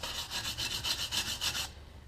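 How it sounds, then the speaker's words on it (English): An old wire brush scrubbing a rusty wheel hub on a 2006 Nissan Xterra 2WD, a rapid series of close, harsh rasping strokes in a steady rhythm that stop abruptly near the end. "you could use an old wire brush."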